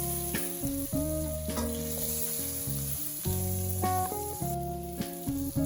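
Tomato sautés in a pan for a pumpkin stir fry, giving a soft, continuous sizzle beneath louder background music with no talking.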